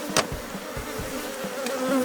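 Honey bees in a honey super of a hive hum in a steady, dense drone close to the listener, with a few louder buzzes as individual bees pass near.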